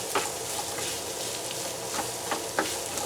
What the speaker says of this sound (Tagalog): So lagyan na natin itong ating sibuyas